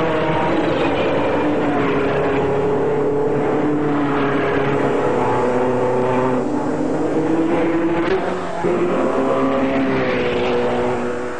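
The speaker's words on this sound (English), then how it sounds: "the Mercedes had taken the lead, and they led the field from start to finish" 1937 Mercedes Grand Prix racing cars at the Tripoli Grand Prix, a loud continuous engine roar with shifting pitch as the cars pass, steady and dense throughout with no voices.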